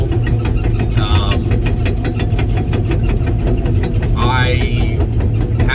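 A Cat 315F excavator engine runs close and loud, holding a steady, heavy mechanical rumble with faint higher whines drifting over it.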